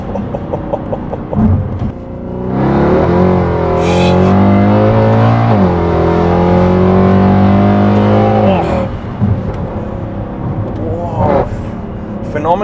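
Mercedes-Benz C63 AMG engine revving and accelerating on a night drive around Lahore, a loud rising then sustained tone lasting several seconds, with people talking over it before and after.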